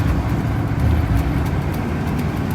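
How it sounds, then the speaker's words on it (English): A big rig truck passes on a highway between Las Vegas and Barstow, a dense steady low rumble of engine and tire roar with traffic noise, heard from inside a moving vehicle. "There's another big rig past us."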